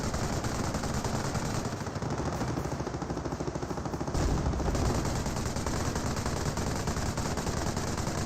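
A Vickers machine gun fires in Company of Heroes, a dense and continuous rattle of rapid shots that stays loud and steady throughout, with no talking.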